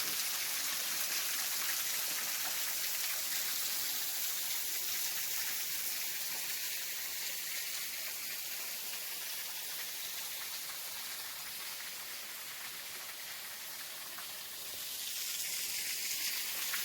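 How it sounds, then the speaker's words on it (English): A waterfall spills off a rocky cliff in the Mississippi woods of Tishomingo State Park, a steady close hissing rush of falling water that runs on evenly without pause and with no voices. "Here's another one with a few Mississippi waterfalls."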